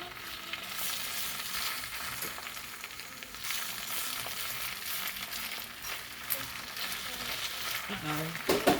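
Fresh spinach frying and wilting down in a pan, a continuous crackling sizzle with scattered stirring scrapes and a few louder clatters near the end.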